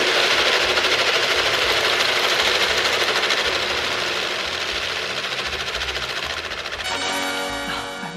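A rapid, dense mechanical clatter of many small flaps flipping at once on a Vestaboard split-flap message board, loud and continuous, thinning into fewer scattered clicks near the end.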